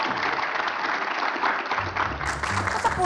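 A studio audience claps steadily through the whole stretch during a political Q&A, a dense even patter with a brief shift in tone partway through.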